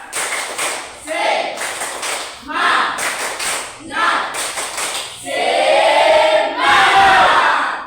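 A school class in a sociology lesson performs a rhythmic spirit clap, with bursts of group clapping in a patterned beat that ends in a sustained loud round. Voices and chanting mix in.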